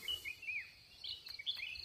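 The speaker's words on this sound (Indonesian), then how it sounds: "Ini sudah ada burung yang lain yang bernyanyi atau apa ya, berkicau." Wild birds chirp and sing faintly in the darkness around 5:15 am during a jungle fowl hunt, with short high calls and whistles repeating over a low hum of insects.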